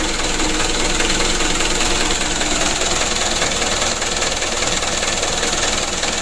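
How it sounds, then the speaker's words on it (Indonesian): A tour bus engine runs at idle after being started, a loud, steady mechanical clatter with a knocking rhythm, heard close up and alone; the engine is due for tuning and new piston rings. "kita hidupkan, kita starter. Untuk mesinnya sudah hidup."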